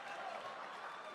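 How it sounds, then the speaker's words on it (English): Sustained crowd applause fills a League of Legends esports event venue, a dense, steady wash of clapping with no breaks across the short stretch. "they've been clapping all along"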